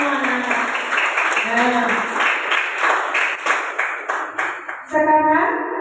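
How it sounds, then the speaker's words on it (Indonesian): Children in a classroom clap their hands together in a quick, steady rhythm while a teacher talks over the claps. "Tepuk tangan untuk kalian semua."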